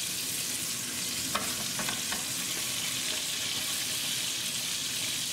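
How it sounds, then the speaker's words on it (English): Water hits a hot pot of browned pork chops and bursts into a steady, loud sizzle and hiss that holds throughout, with a few faint clinks near the start. "And we need to add some water to the pot."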